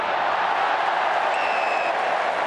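A football crowd at an AFL match between Fremantle Dockers and North Melbourne roars steadily, a dense, far-off wash of cheering held at a constant level throughout.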